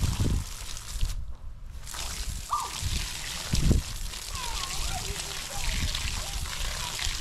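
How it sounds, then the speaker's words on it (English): Water from a hose runs and sloshes over a doused campfire, trickling and splashing under a man's speech, with gurgles near the end. "Go ahead and turn the water off, buddy."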